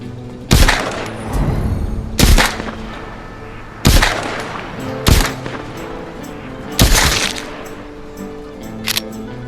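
Handgun shots ring out in the VR zombie game The Walking Dead: Saints & Sinners, six sharp reports spaced a second or two apart, the last one fainter, with low ambient rumble between.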